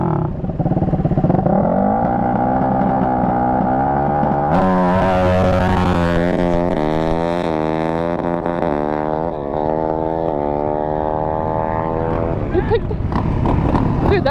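Racing dirt bikes riding in a pack, loud revving two-stroke engines whose pitch climbs and drops through gear changes, several machines overlapping up close, with speech mixed in.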